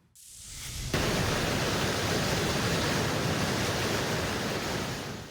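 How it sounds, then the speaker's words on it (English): Floodwater from heavy rainfall rushing through a flooded section of a golf course in Santa Clarita, a dense, loud, steady roar of broadband rushing water that swells in after a brief quiet start and holds without talk. "Video shows flood water rushing right through the golf course, eventually spilling into an overflow drainage basin"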